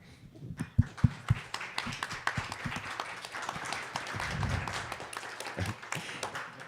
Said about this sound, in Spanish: Yo quiero que le demos un aplauso, por favor.